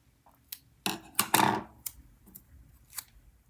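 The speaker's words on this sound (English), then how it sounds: "So I'm just going to do a little snip there. And a little snip over here." Scissors snip cardstock close up: a few sharp, distinct cuts in quick succession, then lighter isolated snips against near silence.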